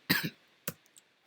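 A person with a cold coughs twice, close and sharp, the first cough a quick double burst, followed by a faint throat sound.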